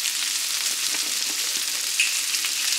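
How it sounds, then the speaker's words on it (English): Rough-chopped vegetables sauté in toasted sesame oil in a pan, giving an even, continuous close sizzle with faint crackles throughout and no other sounds on top. "I just went ahead and added my rough chopped veggies to a pan with some toasted sesame oil from Trader Joe's."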